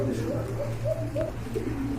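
Soft, low cooing of pigeons for sale rolls on repeatedly over a steady hum, with faint voices in the background.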